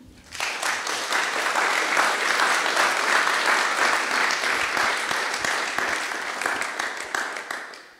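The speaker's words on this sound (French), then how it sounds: "Je vous propose de l'applaudir" A lecture audience breaks into sustained applause after a talk on freelancing and platforms, a dense, steady wash of many hands clapping at close range that swells quickly and holds evenly before tapering off.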